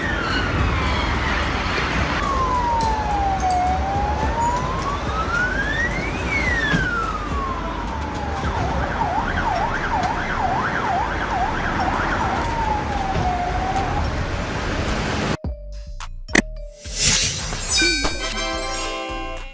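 An ambulance-style doctor car siren wails loudly in long rising and falling sweeps, then switches to a faster yelping pattern before a slower wail, with road rumble underneath; the siren cuts out near the end and other clattering sounds follow.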